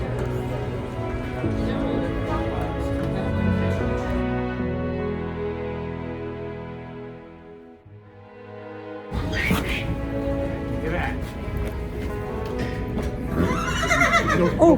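Horses at a rescue barn give out long, loud whinnies close by, the calls trailing off into a short hush before more neighing and barn noise resume, with faint voices in the background.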